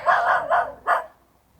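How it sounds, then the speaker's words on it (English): A dog barks four times in quick succession, loud and close, the barks bunched in a rapid run before the sound fades to quiet, heard outdoors near a waterfront camp with tents. "All the dogs are barking."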